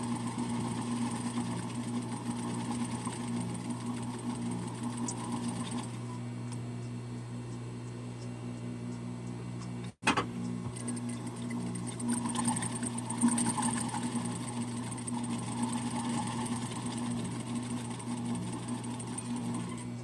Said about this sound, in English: I'm gonna go ahead and top stitch this one.